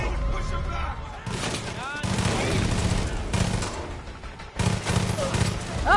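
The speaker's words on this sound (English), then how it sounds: "Oh, I'm shooting him!" Gunfire in Far Cry 5 rings out in loud, close bursts and single shots, with echoing booms between volleys and excited talk over the shooting.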